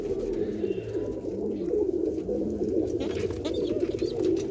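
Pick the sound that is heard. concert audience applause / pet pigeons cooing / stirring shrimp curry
pet pigeons cooing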